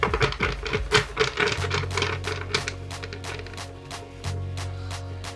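A deck of playing cards is pushed together and riffled, giving dense crisp fluttering clicks in several bursts, with brief low handling thumps between them, close and moderately loud.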